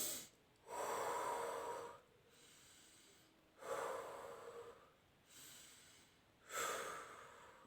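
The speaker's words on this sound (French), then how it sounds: "prenez une grande respiration" Slow, deep breaths drawn in and released at a calm pace, three long airy inhales alternating with softer exhales, close and quiet, with no talking.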